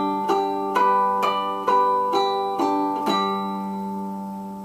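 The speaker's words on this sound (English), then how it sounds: "play regular notes and artificial harmonic notes at the same time" A guitar sounds regular notes and artificial harmonics together, with about seven evenly spaced plucked strums ringing bright and close, the last one left to decay, no voices.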